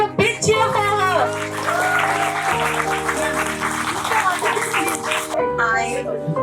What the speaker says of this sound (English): Please, all of you, give a big cheer for her.